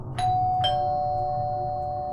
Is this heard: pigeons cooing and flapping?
no